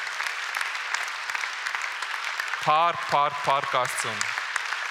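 A church congregation applauding fills the first half with dense, steady clapping, then a voice speaks loudly over the fading applause.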